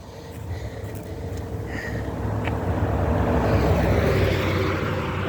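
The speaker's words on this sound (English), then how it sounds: "that's a loud truck" A loud truck passing by on a roadway, its rumble swelling steadily from moderate to loud over several seconds, heard from the roadside while walking.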